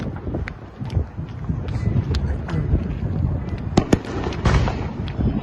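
Fourth of July fireworks in Los Angeles pop and crackle continuously at a distance over steady wind rumble, with several sharper, louder bangs standing out from the dense background.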